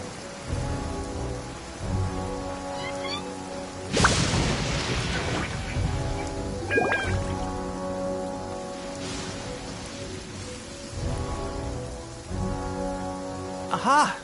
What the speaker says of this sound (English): Marching in the rain conceals the sound of our arrival, but is also a test of stamina.